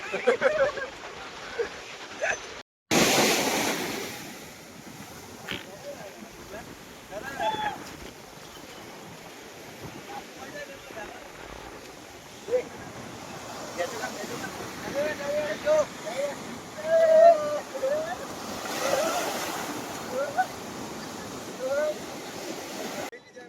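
Sea waves wash along the seashore in a continuous rushing roar, mixed with heavy wind buffeting on the microphone and voices of people nearby.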